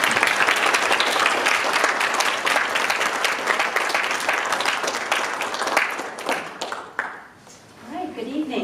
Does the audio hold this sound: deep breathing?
no